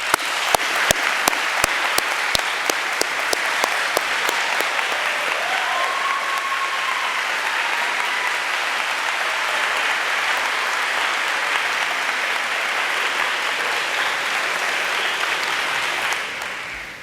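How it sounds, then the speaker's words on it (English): Sustained, loud applause from a large crowd at a varsity sports recognition ceremony, starting with a few sharp claps, swelling into steady dense clapping and fading slightly at the end. "help me give a huge round of applause to those who made this year possible"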